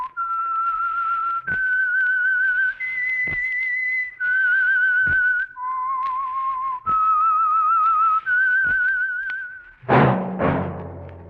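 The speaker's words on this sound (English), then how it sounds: "That whistle is your signal for the Signal Oil Program, The Whistler." Whistled theme tune serving as a radio drama's program signal, a melody of sustained clear pure notes with a light vibrato, each separated by a sharp tap, ending in a brief noisy burst.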